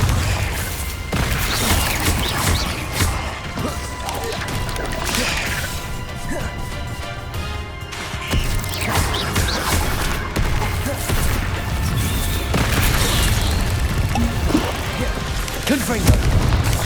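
Confringo blasting spells from Hogwarts Legacy go off again and again, loud crashing booms and whip-like cracks spread across the stretch, with shouting voices mixed in over the blasts.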